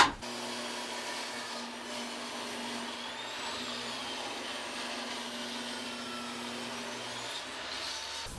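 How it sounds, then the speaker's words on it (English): A table saw cutting a 2x6 board down to size, a steady, moderately quiet whirring blade hum with a faint rising whine in the middle of the cut, running without a break from start to finish. "So I'm going to cut some 2x6 down the size."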